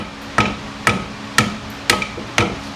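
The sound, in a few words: hammer knocking a part out of car suspension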